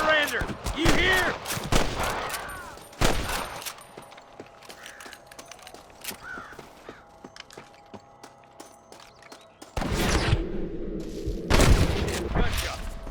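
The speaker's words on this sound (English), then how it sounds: "Gunshot!" Gunfire crackles in Red Dead Redemption, a shootout in New Austin with snipers: sharp sharp bursts of several shots, a quieter stretch of clicks and footsteps, then another loud volley, with voices shouting.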